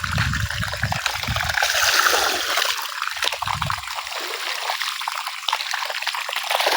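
Water pumped out of a pump house gushes and splashes steadily from a pipe, a loud continuous pouring of dirty water with low rumbling surges.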